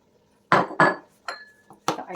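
Cookie dough ingredients for butterscotch chocolate chunk cookies are emptied into a bigger bowl: loud, close clattering and scraping bursts in uneven knocks, separated by brief quiet gaps.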